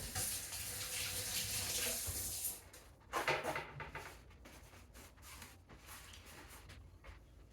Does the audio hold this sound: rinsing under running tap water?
yes